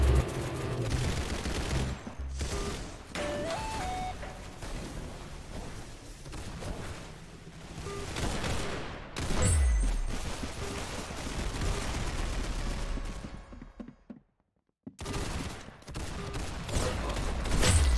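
Dense Roblox Arsenal gunfire keeps up almost nonstop with loud, close volleys and bursts, a few synthetic game tones, and one short near-silent gap before the shooting resumes.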